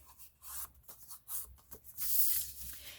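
A paper card is folded by hand, with soft rubbing, creasing and sliding scrapes coming in short, quiet bursts close up and no talking.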